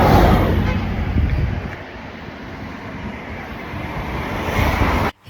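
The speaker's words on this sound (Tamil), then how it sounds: "காத்து வேற அடிக்குது" Strong wind buffets a hill station at Jebel Jais in the UAE, a steady loud roaring rush of noise that dips slightly midway and cuts off abruptly near the end.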